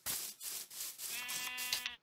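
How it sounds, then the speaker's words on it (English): A sheep in the game Minecraft bleats in a short, wavering cry lasting under two seconds, heard alone and fairly quiet. "I'm gonna kill that sheep."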